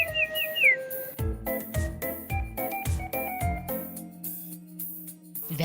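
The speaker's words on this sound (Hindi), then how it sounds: "सीटी बजाई और उनकी ये नन्ही दोस्त दौड़ी चली आई" A man at a temple in Gaya gives a few quick, rising whistle chirps to call a small animal. Sharp knocking sounds follow close by.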